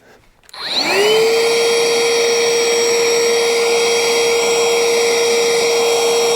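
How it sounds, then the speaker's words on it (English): A small handheld vacuum cleaner starts up with a rising whine and runs steadily and loudly, sucking rust out of a Dentside Ford HVAC box. "Get my vacuum cleaner because there's a lot of rust in there before I drag it all over."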